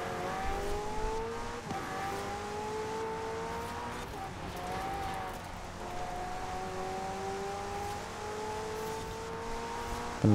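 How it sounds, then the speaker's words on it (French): Car engine in Forza Horizon 4 accelerating steadily, its pitch climbing in long sweeps with brief gear-change dips, loud and continuous for the whole stretch without talk. "Elle accélère plus fort sa voiture là, je comprends pas."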